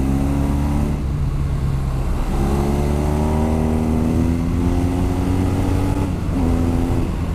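A BMW R nineT motorcycle engine accelerating on the road, rising harmonic revs climbing through successive gear changes, steady and close with wind rush underneath.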